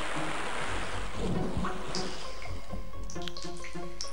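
Rushing water from a waterfall in the video game Blood, a steady loud wash of noise that thins out into dripping and tonal game sounds toward the end.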